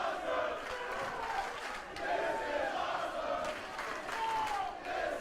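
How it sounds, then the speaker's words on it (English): Wrestling crowd at a PCW Ultra show roaring and yelling steadily, a distant, continuous wash of voices and cheers with occasional shouts rising above. "The crowd eating up every second of this"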